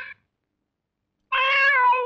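A cat gives a brief clipped meow, then after a pause lets out a longer, loud, drawn-out meow close up.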